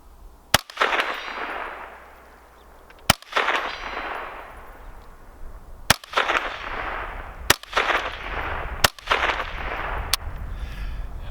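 A CZ 512 semi-auto rifle fires 22 WMR Maximag rounds outdoors. There are five loud, sharp shots spaced a few seconds apart, each with a metallic clang and a long, echoing decay.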